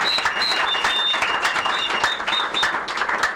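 Audience applause at a live Nigerian call-in television programme, steady dense clapping filling the room throughout, with occasional whistles or cheers mixed in.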